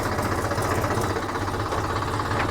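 A tractor engine runs close and loud at high revs, giving a steady, dense mechanical roar with a fast knocking pulse throughout and no speech.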